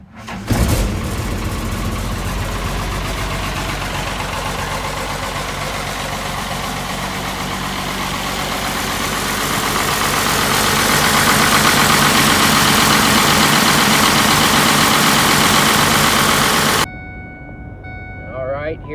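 A 5.9 Cummins diesel engine idles after a cold start, a loud, steady, rumbling clatter close by that grows slightly louder midway, then cuts off abruptly near the end.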